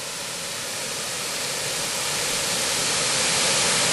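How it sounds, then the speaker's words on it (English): A waterfall about 20 feet high on the Pendle Witches Trail in Lancashire roars as a dense, continuous rushing wash, growing slightly louder toward the end. "look at that for a waterfall"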